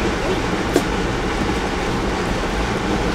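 An Amtrak passenger train riding on the rails, a steady loud rumbling roar heard from inside with a faint rhythmic clatter and one brief sharp click.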